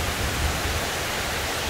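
Very heavy rain pouring down hard enough to flood a house's upper terrace, a dense, steady, loud hiss with no pauses and no voices.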